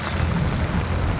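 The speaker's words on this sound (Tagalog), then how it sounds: "sobrang lakas ng ulan" Very heavy rain pours down at a church in Parañaque, a dense, loud, unbroken roar of water hitting surfaces up close with no voices.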